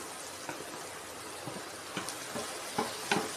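Cluster beans frying in a hot pan, with a continuous sizzle and several scraping stir strokes that grow louder toward the end; the sound is close and there is no talking.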